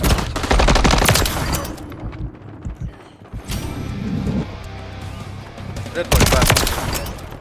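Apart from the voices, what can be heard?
tactical rifle gunfire in video game Call of Duty MW3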